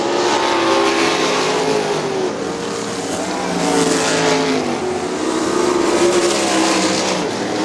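Sprint cars roar around a dirt speedway at Crystal Motor Speedway, a dense, continuous engine drone with pitch rising and falling as several cars race close together, heard from trackside.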